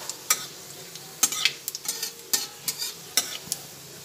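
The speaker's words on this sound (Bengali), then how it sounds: "পাঁচফোড়নটা ভেজে নিচ্ছি।" Panch phoron spices frying in oil left from fried bori, a quiet crackling sizzle with repeated light scraping and tapping of a spoon as the spices are stirred.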